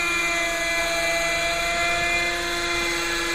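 A Raptor nitro RC helicopter climbs with a loud, continuous buzzing engine whine and rotor drone, steady and close throughout with no talk.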